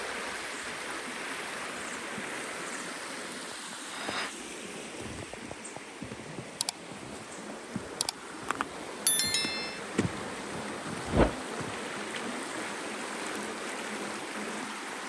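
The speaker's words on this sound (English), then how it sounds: "Right on this beautiful creek." A creek flows past a campsite beside an old wooden bridge, its soft continuous babble and hiss steady throughout, with a few small clicks and knocks near the end.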